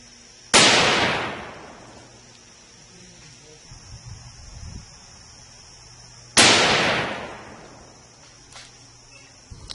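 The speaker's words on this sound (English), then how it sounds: "we're going to shoot it with the 308 just to see what kind of damage it'll do" A .308 rifle fires at a plate of 1 inch cold rolled steel in an outdoor ballistic test: two loud, sharp shots with ringing decay, several seconds apart, over quiet background with insects.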